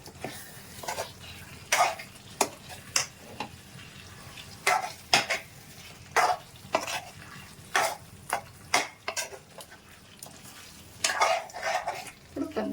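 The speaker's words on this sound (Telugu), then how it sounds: "ఇప్పుడు కాస్త మనం ఇలా కలిపేస్తాం" Boiled chicken being stirred in a pan for a yogurt chicken dish: a utensil scrapes and clinks against the metal in irregular strokes over a faint sizzle, with no talking.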